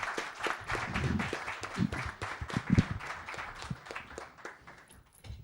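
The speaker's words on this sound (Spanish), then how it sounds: "os pido un fuerte aplauso para ella" An audience at a talk on Equatorial Guinean migration gives a round of applause for a speaker, moderate clapping from a room that fades near the end.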